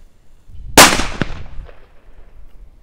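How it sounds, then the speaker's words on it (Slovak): A homemade firecracker of unknown size bursts with one sharp, loud bang, followed by a brief crackle and a fading echo against quiet outdoor background. "Ďalej tu máme takúto homemade mystery petardu, netuším koľko má gramov, vyrábal to kamarát"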